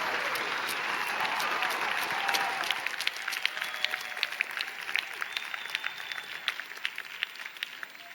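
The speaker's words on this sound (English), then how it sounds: "I think they want a round of applause." A large audience bursts into loud, dense applause at a COP25 climate event. It swells at first, then thins into scattered individual claps that fade toward the end, with no one speaking over it.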